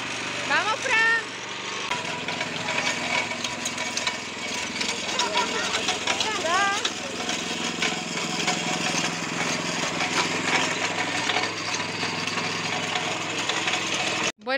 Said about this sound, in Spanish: de aquí viene el ruido. De la mula mecánica.